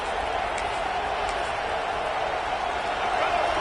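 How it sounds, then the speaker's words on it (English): Stadium crowd at a college football game in College Football 26, a steady, broad roar of many voices filling the background, constant and moderately loud without distinct peaks. "this crowd is fired up. Listen to this noise here"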